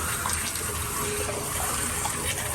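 Steady rush of water pouring from a tap into a container, a continuous even hiss close to the microphone with no talking.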